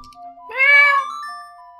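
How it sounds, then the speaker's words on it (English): A single clear cat meow in the game Majora's Mask, rising and then falling over about half a second, close and prominent against faint background tones. "The cat's meowing."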